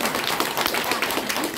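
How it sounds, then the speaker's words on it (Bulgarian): A short burst of dense clapping from an audience at a first-grade graduation celebration, steady and fairly loud throughout. "Позволете ми, моля вашите аплодисменти."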